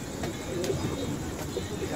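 Soft, low coos of male racing pigeons murmuring in the background, overlapping with a few faint clicks and some nearby talking.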